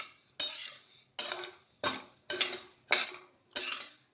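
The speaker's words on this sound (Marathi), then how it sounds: "पाऊन वाटे शाबुदाना भाजून घेऊ शाबुदाना जास्त असा लाल करायचं आहे तो थोडासा भाजून घ्यायचा पाच मिनिट" Sago pearls being dry-roasted in a pan for chakli flour, stirred with a utensil in six distinct scraping strokes with short pauses between them, close and fairly loud with no talking.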